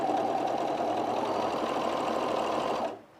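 An overlocker stitching mesh fabric hums in a steady, fast mechanical whir close by for about three seconds, then stops abruptly, with no voices.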